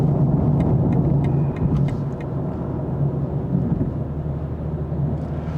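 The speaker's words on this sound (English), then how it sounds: "You can hear it's a little bit noisy on this not very well kept tarmac surface." Steady road roar inside a 2022 BMW M240i on rough, poorly kept tarmac, a dense, continuous low rumble with tire noise that stays loud throughout.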